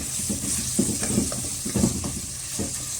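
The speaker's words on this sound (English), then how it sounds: "First you mix the tofu and cook it." Tofu stirred and frying in a pan for vegetable fried rice, a steady sizzle with soft scraping strokes of the spatula at a regular pace throughout, close and moderately loud.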